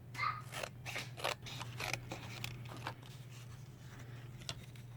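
Scissors trim fabric for a handmade no-sew gift bag, a close run of crisp snips at an uneven pace over a faint steady hum, slowing and softening toward the end.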